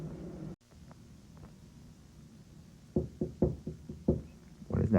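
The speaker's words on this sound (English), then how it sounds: "Is this monster literally knocking on my door?" Knocking on a door in the Parasite Eve video game: several sharp knocks in an irregular cluster after a quiet stretch, then a louder final burst, close and clear over a low background rumble.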